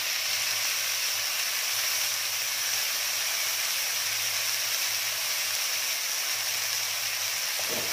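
Water splashed into a hot pan of tofu and carrot over medium heat, a loud, constant steamy hiss that holds evenly throughout with a faint low hum underneath.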